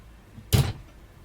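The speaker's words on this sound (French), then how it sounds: "Chaque armoire est munie, tout comme pour les tiroirs, d'un système d'aimant afin d'éviter que cela ne s'ouvre quand on conduit." A single cupboard door with a magnetic catch in a Fiat Ducato camper van closes with one short, solid thud close by.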